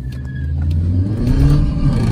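A Hyundai Creta and a Kia Seltos launch side by side in a drag race, their engines roaring loud and close as the revs climb steadily, with no talking over them.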